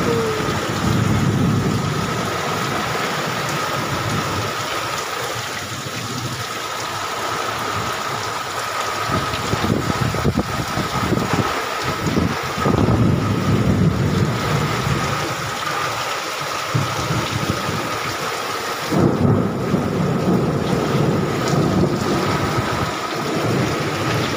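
Heavy rain with wind and thunder pours down in Talcher, a dense steady roar of rainfall that carries through the whole stretch, with low rumbling swells and gusty surges, loud and close, and no voices.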